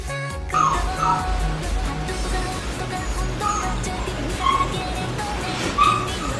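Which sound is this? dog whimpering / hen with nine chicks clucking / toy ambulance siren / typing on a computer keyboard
dog whimpering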